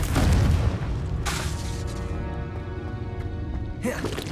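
A Confringo blasting spell from Hogwarts Legacy erupts with a loud, deep boom right at the start, then rumbles down under a lingering magical hum, with a sharper crackling burst near the end.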